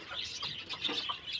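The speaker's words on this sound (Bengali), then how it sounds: "এই মুরগিটা খুবই একটা বাজে মুরগি" A troublesome backyard hen clucks and squawks in a short, busy burst, moderately close and mingled with other fowl calls, no talk.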